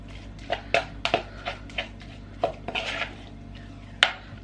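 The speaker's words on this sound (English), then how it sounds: "you just stir them in, because you've got to add them to the tomato and the garlic" A utensil clinks and scrapes against a pan in a quick irregular run of sharp taps, stirring ingredients into tomato and garlic for a Sicilian tuna pasta. The taps are close and clear over a low steady kitchen hum.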